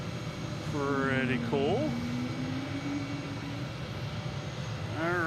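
An airplane taxiing at Boston Logan International Airport, a steady distant engine rumble and whine beneath people talking nearby.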